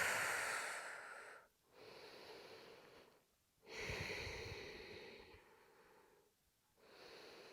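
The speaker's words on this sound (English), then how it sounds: "And then exhale, dropping the knees over towards the left." Slow exhaled breaths during a trunk activation yoga flow, long airy exhales near the microphone separated by brief quiet pauses, with no talk.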